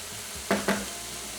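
Lamb mince stir-fried in a pan with soy sauce makes a soft background sizzle, broken by two quick scraping stirs in close succession.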